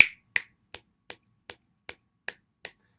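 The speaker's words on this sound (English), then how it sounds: "You'll hear them and you'll know what it is because it'll sound like this." A pulsar's radio signal is turned into sound as eight sharp, evenly spaced clicks, one every third of a second or so. The clicks sound like snaps or ticks and come alone, with silence between them.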